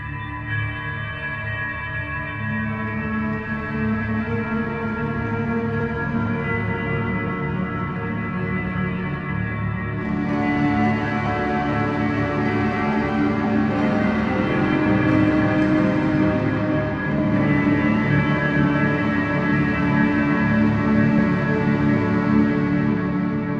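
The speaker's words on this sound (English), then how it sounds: "Here's a snapshot that I really like. This one's called Village Bells." A sustained, shimmering bell-like synthesizer tone from a Village Bells preset, with layered ringing overtones, swells and brightens midway, continuing loud and unbroken without any talking.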